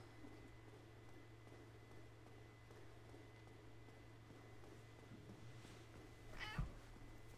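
A single short cat meow rises near the end over a quiet background with a low steady hum.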